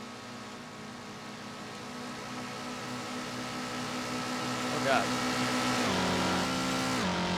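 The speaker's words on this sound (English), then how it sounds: "As you saw, my car passes the other car." One car overtakes another on a road, the engine drone building steadily with a pitch shift as the vehicles draw close and pass; a brief exclamation breaks in midway.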